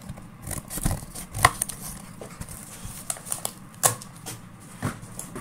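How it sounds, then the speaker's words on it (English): Scissors snip in irregular, sharp clicks, close by, with quiet pauses between the cuts. "I'm just cutting it using a pair of scissors"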